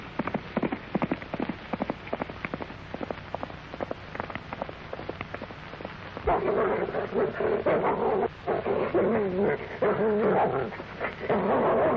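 A dog barks repeatedly in a 1931 film serial, with sharp, close barks coming in quick bursts over a hissing, rain-like background of old soundtrack noise that grows louder and busier midway.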